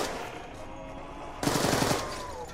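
AK-74U gunfire in Call of Duty's Die Rise zombies map: one short rapid burst of automatic shots cuts in midway over a background game hum, close and punchy, then fades into ambient noise.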